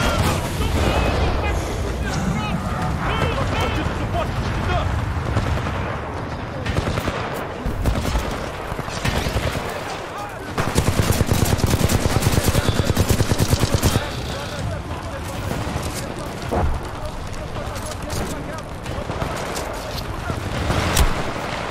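Dense, continuous gunfire with rapid bursts and booms in Titanfall 2 on Xbox Series X, loud and close throughout, with a voice talking over it at times.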